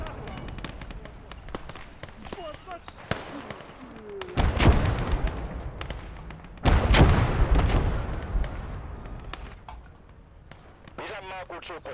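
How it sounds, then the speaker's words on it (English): In the Motherland war game, artillery booms in two heavy blasts with rumbling tails, surrounded by clicks and smaller battle noise, with a voice speaking throughout. "I want you on that gun. I want that gun firing."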